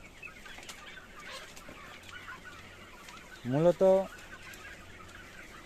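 A chicken gives a loud, close double cluck midway through, standing out against quiet farmyard background noise, with brief speech nearby.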